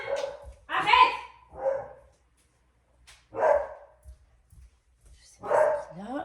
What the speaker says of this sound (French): Juste parce qu'il voit ma voisine dehors, il aboie